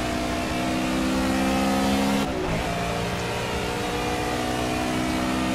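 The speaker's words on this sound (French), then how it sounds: "Alors qu'ici je laisse passer une Aston Martin qui est aussi en train d'essayer de faire son chrono" Race car engines from Project CARS, including an Aston Martin in GT Touring at Silverstone, hold a steady loud drone, with a brief shift as one car passes close by.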